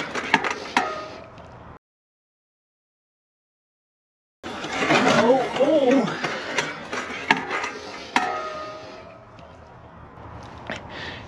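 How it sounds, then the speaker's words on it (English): Mountain bike chain and gears clattering loudly on a steep hillside lap of a motocross track, with a brief silent gap, then sustained rattling and sharp clanks as the chain is thrown off the inside. "I threw a chain to the inside, right?"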